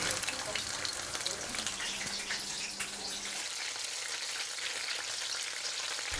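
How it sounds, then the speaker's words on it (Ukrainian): Steady, dense sizzling of chopped fish patties frying in vegetable oil in a well-heated pan, a continuous crackling hiss with no pauses. "Смажу котлети на добре розігрітій пательні з рослинною олійкою."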